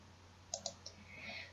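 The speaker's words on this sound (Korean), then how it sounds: "상단에 있는 작업 관리에 전용 엑셀 양식을 클릭합니다" A computer mouse clicks three times in quick succession while operating the CP-Master material-cutting software and its Excel form; the clicks are faint and close, over quiet room hiss.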